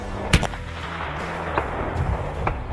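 A .30 caliber PCP airgun fires a single FX hybrid slug, one sharp loud crack near the start, followed by faint ambient noise and a few small distant knocks at an outdoor range.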